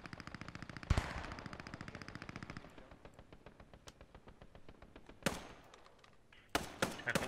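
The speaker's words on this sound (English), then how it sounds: "That tank just fired at me" Tank gunfire in the World War 2 game Post Scriptum: a heavy booming shot near the start, later followed by two more loud blasts, with a steady rattle of distant small-arms fire between them.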